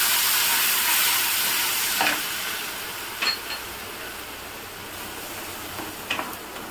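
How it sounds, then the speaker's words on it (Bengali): Capsicum, coriander leaves, tomato and green chili paste sautéing in a pan with a steady soft sizzle and hiss, broken by a few brief stirring scrapes, close and alone with no talk. "এটা ভালো করে একটু কষিয়ে নেবো।"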